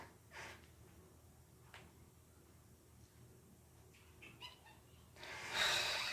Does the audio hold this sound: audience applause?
no